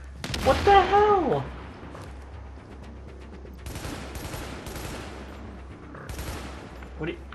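Gunfire in a Tom Clancy's The Division firefight, with a burst of shots near the start and later scattered volleys of bursts, loud and close over a steady low rumble.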